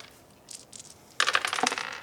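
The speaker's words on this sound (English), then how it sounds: "Roll a bunch of dice." A handful of dice rattle and clatter across a table during a tabletop game, with a brief shake and then a busy burst of tumbling clicks.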